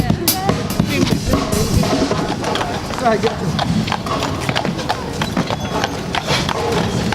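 Horse hooves clip-clop in a quick, uneven rhythm close by in New York, while people talk over them throughout.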